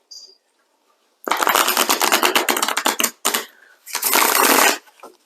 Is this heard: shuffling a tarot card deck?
yes